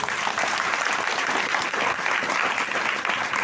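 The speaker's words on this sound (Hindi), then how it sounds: "एक बार जोरदार तालियां बजाएं।" Loud, sustained audience applause fills the whole stretch, a dense wash of many hands clapping together, steady from start to finish, with some crowd murmur underneath and no clear speech.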